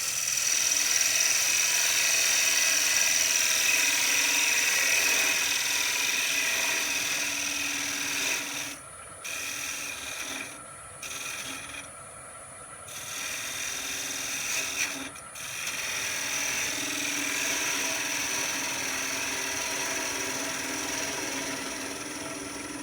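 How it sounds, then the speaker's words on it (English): A spindle gouge cuts end grain on a small threaded wooden trinket box turning on a lathe, giving a steady loud rasping hiss that drops out briefly a few times before resuming. "we'll do another pass back in with a spindle gouge"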